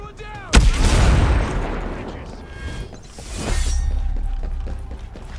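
Gunfire bursts and a loud blast ring out in a shooter video game, with a sharp explosion early, then continued firing, shattering debris and a second wave of heavy shots under shouted combat voices.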